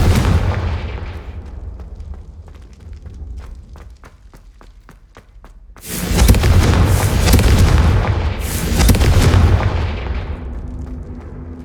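Fire-spell blasts cast in Hogwarts Legacy: a quiet stretch of soft ticking clicks, then a sudden loud roaring burst of fiery explosion that rumbles for several seconds, followed by a second flaring whoosh, with no voices.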